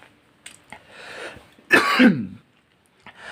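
A person clears their throat with a few short rasps, then gives one louder, rougher cough, followed by quiet.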